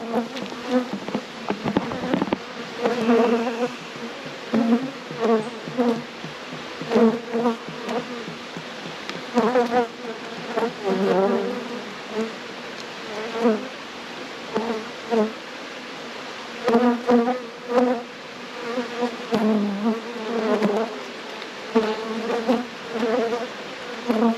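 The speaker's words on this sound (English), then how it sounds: "We'll rescue that bee." Bees buzzing steadily and loudly around a hive feeder filled with syrup, a dense continuous insect drone close by with shifting pitch as individual bees fly past.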